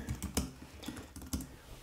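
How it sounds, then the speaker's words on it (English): Fast, uneven clicking of keys on a computer keyboard, close and clear, with quick bursts of keystrokes and no voice. "too fast typing"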